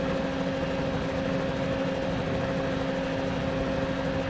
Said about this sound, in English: Pull the handbrake, get the revs up,